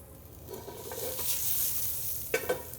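Portobello mushroom caps sizzle as they caramelize in a hot pan, a steady close frying crackle with a brief stirring scrape and two light knocks near the end, no talking.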